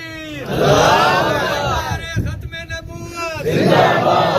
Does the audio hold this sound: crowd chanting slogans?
yes